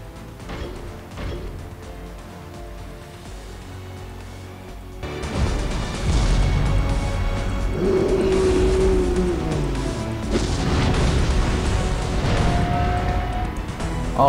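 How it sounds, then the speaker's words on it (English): Animation effects for Hulk reaching Tier 3 in the Marvel Future Fight mobile game: a low rumble that swells after a few seconds into heavy, sustained crashing and whooshing, loud and continuous with no speech. "The Tier 3 advancement animation is coming up for those who want to see it."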